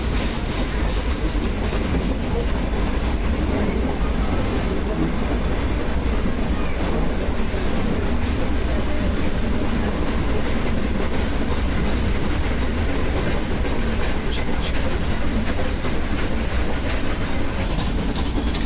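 The Ooty toy train of the Nilgiri Mountain Railway runs along its track, a continuous loud rumble with rattling carriages and steady clickety-clack heard from inside, with no pause throughout.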